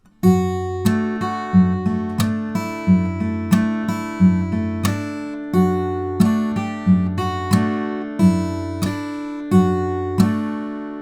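Fingerpicked acoustic guitar plays a steady, repeating arpeggio pattern, each plucked note ringing clearly, solo and close with no voices.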